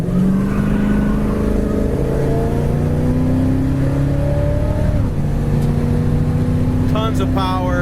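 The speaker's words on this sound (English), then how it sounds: "Chevelle has a great idle. It's idling at about 800 RPM." A grey 1968 Chevrolet Chevelle Super Sport idles at about 800 RPM, a steady, loud, close engine rumble with even low tones that hold throughout and shift slightly in pitch partway through.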